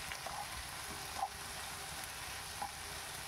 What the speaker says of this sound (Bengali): দেখুন হালকা করে একটু নাড়িয়ে চাড়িয়ে ভেজে নিচ্ছি।